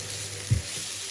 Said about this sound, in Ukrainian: Також на середньому вогні смажу до тих пір, поки не з'явиться золота скоринка.